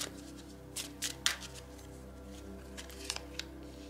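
A deck of tarot cards being shuffled for a card draw, with soft riffling and a few sharper flicks in short bursts, quiet and close, without talk.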